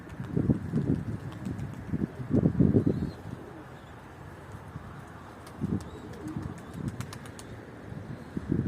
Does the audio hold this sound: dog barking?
no